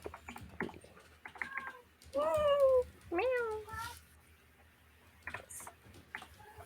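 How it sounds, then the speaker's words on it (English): Several short cat meows, two louder rising-falling calls clearly in front, with people talking and moving around them in a room. "They're like meowing all the time."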